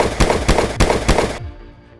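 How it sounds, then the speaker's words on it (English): Four loud gunshots fire in quick, even succession close by, each a sharp crack, followed by a fading echo and quiet. "The suspect, 63-year-old James Tullis, fired a shot at his opponent before officers could step in."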